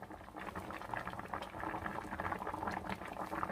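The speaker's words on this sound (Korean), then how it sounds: "이렇게 지금 잘 끓고 있으니까" Braised mackerel with radish, onion and seasoning bubbles in a pot over high heat, a close, busy burble of boiling liquid with irregular pops running throughout, no voices.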